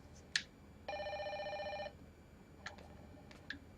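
Telephone ringing inside the video game Fatal Frame 5, a single electronic ring burst lasting about a second amid quiet game ambience with a few faint clicks and chimes.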